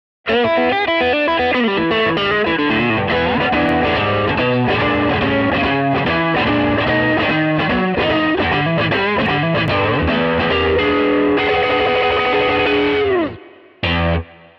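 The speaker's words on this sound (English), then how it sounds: "We're going to be using the TS-808 Tube Screamer model in the Helix" A distorted electric guitar through a TS-808 Tube Screamer overdrive model in a Line 6 Helix plays a continuous overdriven riff with sustained chords and lead notes, loud and upfront, ending with a brief final strum.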